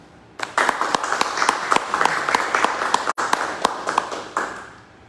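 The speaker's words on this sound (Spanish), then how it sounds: "recibimos con un fuerte aplauso" Conference audience in an auditorium breaking into loud, sustained applause to welcome an archaeologist to the lectern, a dense wash of many hands with sharp individual claps, holding steady for several seconds before fading out.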